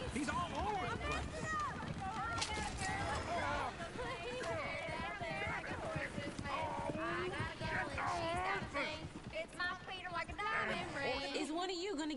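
Hooves clip-clop in an uneven rhythm beneath lively overlapping voices and general crowd bustle.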